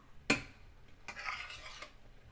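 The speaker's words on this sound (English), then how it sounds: "Again, keep stirring" Beans are stirred into a vegetable and mushroom mixture in an oil-free pan: one sharp clink of the utensil, then a longer soft scraping sweep, fairly quiet and close.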